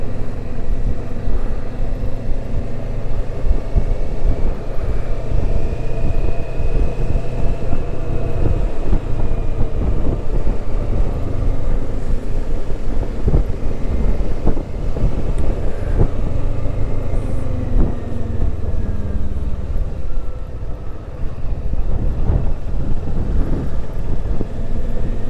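Steady, loud engine drone and wind rush on a motorcycle during a long ride of several hours, continuous throughout with shifting engine pitch and no talk.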